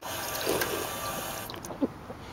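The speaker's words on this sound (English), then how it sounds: "What you do is you just go ahead and push this and angle it so it fills up the whole bottle." Clean water pours into a bottle as it fills, a steady running splash with a couple of short gurgles and clicks near the end, close and moderately loud.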